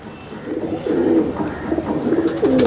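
A female pigeon in her nest gives soft, low repeated coos, close and clear over faint background hiss.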